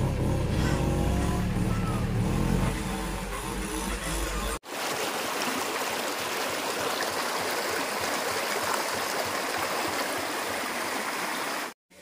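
Water of a cool outdoor stream where people wade, a steady rushing flow that carries on without a break after a brief cut, with mixed voices and noise in the first few seconds.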